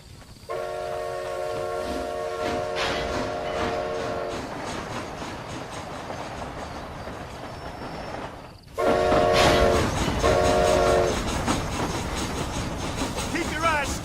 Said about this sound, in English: Is this train headed for Mexico?